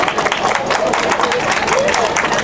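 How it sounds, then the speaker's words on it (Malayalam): An audience applauds after a thiruvathira group dance at a cultural fest, giving steady, dense clapping throughout with crowd murmur underneath. "നല്ലൊരു കൈയടി കൊടുക്കൂ, പിശുക്ക് കാണിക്കരുത്"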